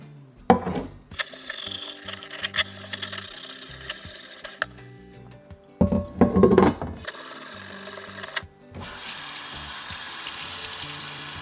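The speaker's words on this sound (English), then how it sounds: "just rubbing it with this stainless steel loofah, whatever they call those things" A stainless steel scrubber rubs over a cast iron pan during restoration cleaning, giving uneven bursts of gritty scraping and scrubbing close by. Near the end a steady rush of running water at a sink takes over. No one speaks.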